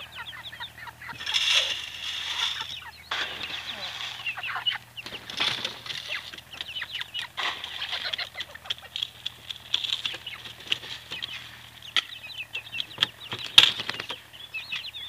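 Ornamental chickens cluck and chatter up close beside their coop, with scratching, pattering feet and a flutter of wings now and then, steady activity throughout.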